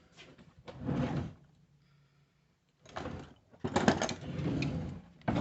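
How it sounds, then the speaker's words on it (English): A small scrap part being pried and popped open by hand, heard as two close, crunchy bursts of cracking and scraping separated by a brief quiet pause. "And pop one open."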